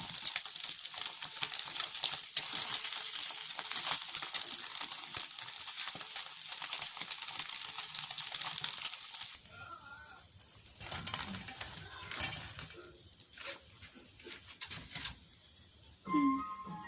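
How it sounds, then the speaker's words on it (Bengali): Egg paneer pieces fry in hot oil with a loud, dense sizzle for about nine seconds. The sizzle then drops away, leaving quieter bubbling and a few utensil clinks and knocks. "দেখুন ভাজতে ভাজতে কতটা বড় হয়ে গেছে ফুলে।"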